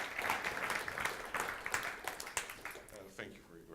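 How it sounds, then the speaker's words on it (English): A modest audience claps after a talk on red teaming, quiet scattered applause with distinct individual claps, and a voice speaks over it toward the end. "Oh yeah, yes, please applaud."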